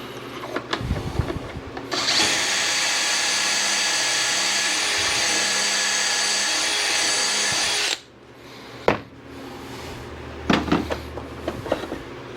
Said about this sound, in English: we're going to make some pocket holes